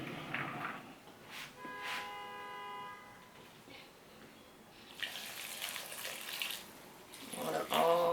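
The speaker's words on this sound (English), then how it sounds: "Let's give it a good water." Water is poured and splashes into the soil of a potted ficus, a soft trickling wash in intermittent bursts with quiet gaps between them.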